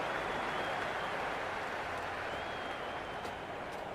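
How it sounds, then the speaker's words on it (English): A cricket video game crowd roars in the stands with applause, a steady, fairly faint wash of cheering and clapping that holds for a few seconds without any clear voice over it. "There's a buzz, a real buzz coming from the stands."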